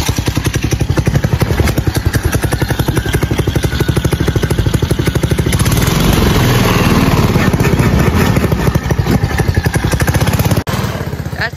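A Predator 212 small engine fitted on a Trail Master go-kart runs steadily close by, giving a loud, continuous rapid clattering chug at an even pace that stays level throughout, with a brief dip near the end.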